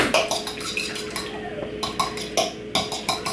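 Spoon or utensil mixing applesauce into plain organic whole milk yogurt in a bowl, a steady run of close clinks and scraping taps against the bowl's sides in an uneven stirring rhythm.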